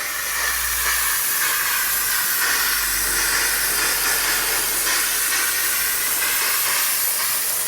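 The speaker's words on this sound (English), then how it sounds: "So I like to use a steamer because then I can get it damp," A handheld steamer hisses steadily as it dampens Alcantara car upholstery on a Golf Blue GT3 RS, a continuous close, loud jet of steam running without pause.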